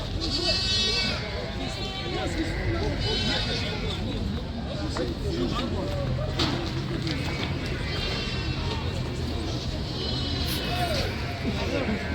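Sheep and lambs bleat repeatedly at a livestock market in Taraz, overlapping calls near and far over a constant hubbub, with people talking throughout.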